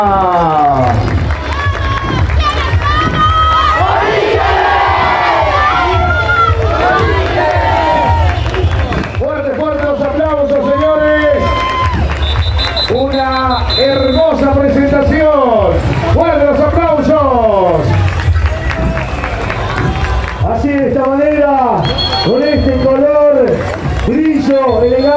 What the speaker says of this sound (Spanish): Ahí están los aplausos del público.